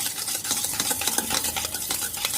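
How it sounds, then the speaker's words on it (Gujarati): Milk, sugar and oil stirred together in a bowl for an eggless cake, a close, continuous whisking and scraping with rapid rhythmic clicks. "હવે આપણે તેલ નાખી દઈએ અને આને સરસ મિક્સ કરી લઈએ"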